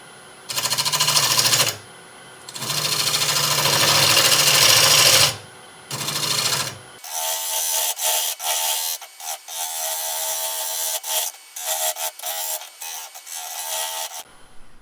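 Apple wood turning on a lathe while a captured-bar hollowing system cuts the inside, a loud rough scraping whir in long bursts, then a gentler chattering cut with rapid ticks.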